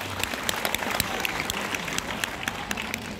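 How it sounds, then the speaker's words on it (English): A school annual-report gathering breaks into applause for award-winning students, with dense, continuous clapping from a large crowd that stays fairly loud and even throughout and has sharp individual claps popping out. "a huge round of applause for them"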